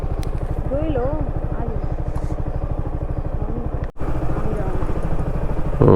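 A motorcycle engine runs steadily at idle on a trip in Costa Brava, Spain, with a close, loud chugging pulse and one brief dropout, while someone talks over it.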